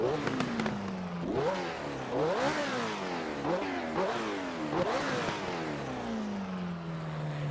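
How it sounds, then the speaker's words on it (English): An Alfa Romeo 33 Stradale V8 engine revs repeatedly in the game Assetto Corsa, pitch rising and falling in throaty surges, loud and close, with a steady idle between blips. "And you can hear that wonderful V8 engine."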